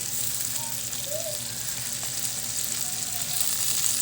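Sautéed bitter gourd (ampalaya) stirred in a frying pan: a steady, close sizzle of frying runs throughout, with a few faint scrapes from stirring and no talk.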